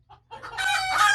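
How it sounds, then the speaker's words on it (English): A broody hen on the farm lets out one short, loud squawking call that starts with a faint note and swells into a harsh, drawn-out cry, near and alone. "Crazy chickens."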